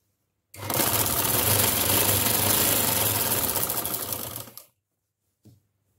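A sewing machine stitches elastic into trousers in one fast, steady run of about four seconds, close and loud, then stops, followed by a brief mechanical click.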